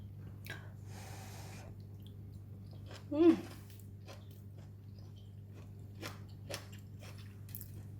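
Crunchy vegetable fried rice with kailan is chewed close up in sparse, moist crunching bites, with one louder crunch midway, over a low steady background hum.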